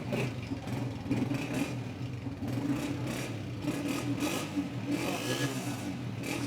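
A used 2018 Honda 125 motorcycle engine idles close by with a steady mid-pitched whir and rumble that holds even throughout.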